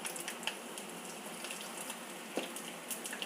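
Mustard seeds and urad dal sizzle in hot oil for tempering, with a steady, close crackle and frying hiss and scattered small pops.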